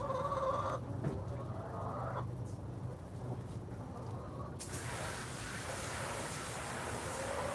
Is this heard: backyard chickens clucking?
yes